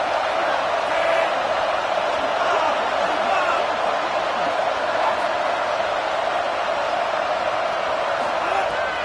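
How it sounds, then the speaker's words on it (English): A dense, continuous roar rises from a football stadium crowd during a college game between Washington and UCLA, a loud unbroken wash of cheering with no distinct pauses. "This crowd rising up, sensing that its defense needs some help."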